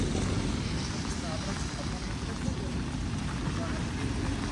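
Steady rain pours over the old town of Lviv in bad weather, a dense continuous hiss of drops on pavement and roofs, loud and unbroken throughout.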